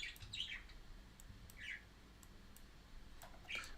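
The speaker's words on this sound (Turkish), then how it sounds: "Arkadan inşallah kuş sesi çok gelmiyordur size." Birds chirping and squawking in the background outdoors, a few short scattered calls, faint and distant against quiet room noise.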